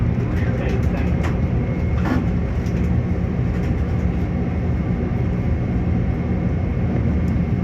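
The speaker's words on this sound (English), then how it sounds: "A Ronkonkoma train stopping at Queens Village." A Long Island Rail Road Ronkonkoma train rumbles and rolls to a stop at Queens Village station. A steady low mechanical drone fills the clip, with faint higher squeals and clatter on top.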